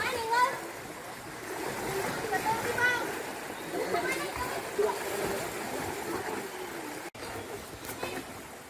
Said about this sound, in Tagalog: Lumalangoy sila sa ilog, ang saya nila.